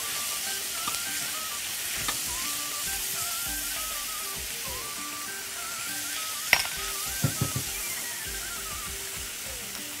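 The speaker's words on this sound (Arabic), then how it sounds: "احط لها الفلفل الالوان مفروم برضو حبة كده وهما بيستووا" Chopped colored bell peppers sizzle and fry in a pan with a steady close hiss, broken by a few sharp clicks and taps near the end, likely from stirring.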